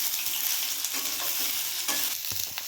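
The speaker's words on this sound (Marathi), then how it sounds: "कढईमध्ये तेल गरम करायला ठेवले आता त्याच्यामध्ये हे सोयाबीन ना घालून घेते आणि ह्याला व्यवस्थित गोल्डन होतो फ्राय करून घेते" Soybean chunks fry in hot oil in a wok with a loud, steady close-up sizzle and crackle, occasional stirring scrapes, no talk.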